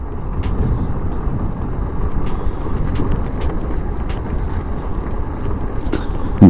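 A motorbike rides along a rough, dangerous road from Jagdalpur to Kailash Gufa in Chhattisgarh, with a steady engine drone and wind rumble that continue throughout, punctuated by faint clicks and rattles and a sudden bump at the end.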